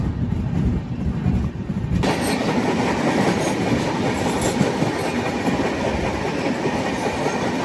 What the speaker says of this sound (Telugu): ఇప్పుడు ఇది ఐటమ్, ఈ గూడ్స్ బండి